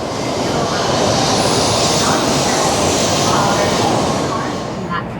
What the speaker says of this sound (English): I was going to take the Shinkansen for the first time.